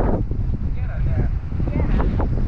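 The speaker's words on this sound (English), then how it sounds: "listen to that wind, it's absolutely crazy." Strong wind buffets the microphone on an open golf course, a loud continuous low rumble and roar with a voice talking faintly underneath.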